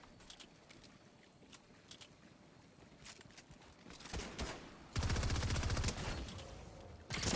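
Gunfire in Fortnite Zero Build, scattered shots early, then a dense sustained burst of rapid fire from a rapid-fire SMG that keeps going loud to the end, no voices.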